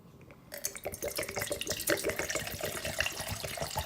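Water is poured into a pot for a survival stove, a continuous splashing, gurgling trickle that starts abruptly and runs steadily, close by.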